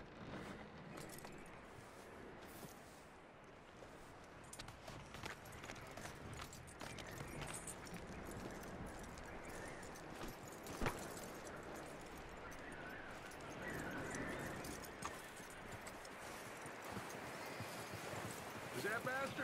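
Horse hooves clip-clop steadily in Red Dead Redemption 2 gameplay, a continuous trotting patter under ambient outdoor game sound and occasional voices.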